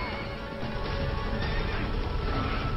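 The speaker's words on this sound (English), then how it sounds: "Oh my god, what a stupid horse." A horse neighs and whinnies in the video game Avatar: The Game, with hoof clip-clops and a dense game soundscape underneath, loud and continuous with no talking.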